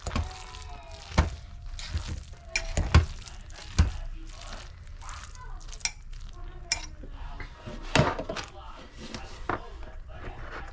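A spoon stirs salt and seasonings into food in a home kitchen, with scattered scraping and clinking knocks against a pot or bowl, close and moderately loud, while a person talks between the strokes.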